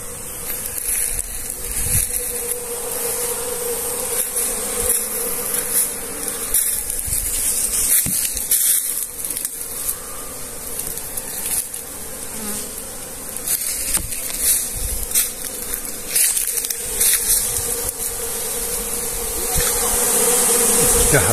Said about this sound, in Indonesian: Seperti inilah proses pemanenan sarang lebah di tempat saya.